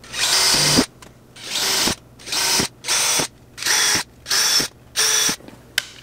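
A power drill whirs in seven short, loud bursts during a van conversion, each lasting under a second with brief pauses between, close up and with no talking; the drill bit is clogged with black sticky material.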